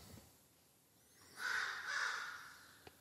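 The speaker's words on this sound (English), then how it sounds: "as the crows are telling you right now" Crows caw outdoors, two harsh, drawn-out calls in quick succession at moderate distance, standing out from a quiet background with a faint click near the end and no speech.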